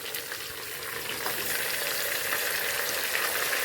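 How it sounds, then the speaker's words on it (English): Meat and onions frying in a pot, a close, steady hiss and sizzle that grows slightly louder, with faint stirring scrapes. "So I'm going to add in the meat in the onions,"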